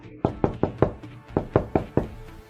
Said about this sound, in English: But suddenly, there was a knock at the door.